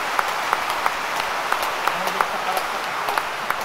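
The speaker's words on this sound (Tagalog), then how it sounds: "Kaya maaari bang pumalakpak ng pinakamalakas?" A church congregation applauds inside the Minor Basilica of the Black Nazarene, a dense, steady wash of clapping that holds for several seconds.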